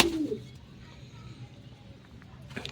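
A single low coo from a pigeon at the start, then quiet room noise with a faint rustle near the end.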